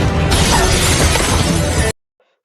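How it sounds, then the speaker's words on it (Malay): Glass panel shattering as a man is hurled against a wall in a film scene, a loud dense crash of breaking glass lasting almost two seconds, then cutting abruptly to silence. "Victor menghempaskan Joe ke dinding hingga kaca itu pecah."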